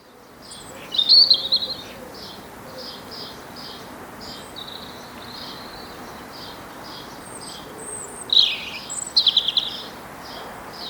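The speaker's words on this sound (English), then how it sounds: "you'll find the song of the robin hard to miss" A European robin sings high, varied warbling phrases in short bursts separated by pauses, over a steady outdoor background hiss.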